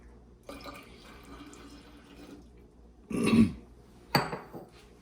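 Dissolved alum solution is poured into a large container in bursts, a short trickle followed by two louder splashing gushes of liquid, close by and with no talk.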